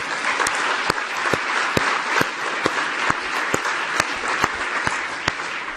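Audience applause at a talk and book presentation, a dense, steady wash of many hands clapping with sharper individual claps standing out, fairly close and sustained throughout.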